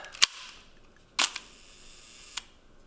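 Three sharp mechanical shutter clicks from a 1950s–60s Agfa Agfaflex leaf-shutter SLR camera, close and crisp, spaced about a second apart, with quiet room hiss between them.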